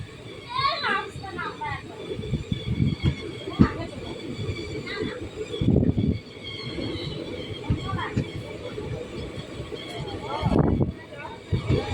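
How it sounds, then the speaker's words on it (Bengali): A train rolls into Chauhatta station with rumbling wheels and intermittent high squeals from the rails, while people nearby talk and children's voices carry over the clatter. "আমাদের ট্রেন এখন চলে আসলো এই জার্নির পরবর্তী স্টেশন চৌহাট্টা"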